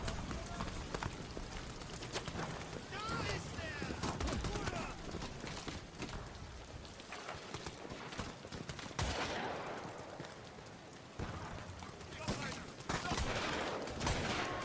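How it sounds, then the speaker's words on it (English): Gunfire from a platoon of German soldiers in the horror game Amnesia: The Bunker, set in a WWI trench, crackling in dense bursts amid busy game noise and footsteps for most of the stretch. "Henry gets ambushed by a platoon of German soldiers who begin firing at him"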